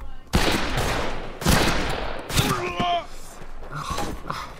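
Rifle gunfire in the western multiplayer shooter Fistful of Frags: three or four sharp, loud shots ring out a second apart, with a brief vocal sound and some game noise between them.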